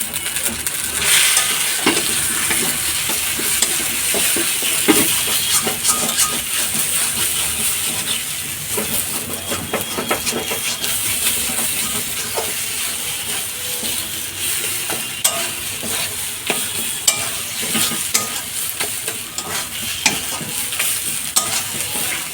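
Black cumin seeds fry in hot oil while being stirred for a mashed taro (maan kochu) dish, with a continuous bright sizzle and hiss and constant scraping of the spoon running steadily throughout.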